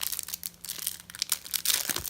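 Plastic wrapper crinkling as Kaiba Yu-Gi-Oh card packs are torn open: loud, close, continuous crackling and rustling with sharp crunchy bursts, no voices.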